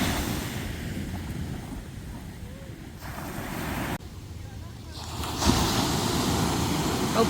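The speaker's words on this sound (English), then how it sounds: "there's been so many waves that they just go so fast" Ocean waves break continuously on Montara State Beach near Half Moon Bay, a loud, steady surf roar with wind buffeting the microphone and a swell of louder crashing toward the end.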